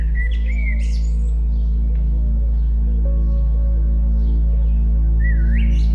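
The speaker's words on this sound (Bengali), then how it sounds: "চারিদিকে শুধু সবুজ বন, পাখির ডাক আর দূরে কোথাও নদীর শব্দ।" Birds chirp and call a few times in brief, clear bursts in a dense Meghalaya forest along a stone stairway near Nongriat village, heard over a loud, constant low hum.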